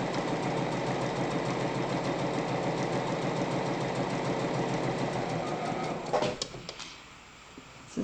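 A home sewing machine stitches a zipper seam with a fast, even mechanical whir that runs steadily, then stops with a few clicks and clatters as it winds down.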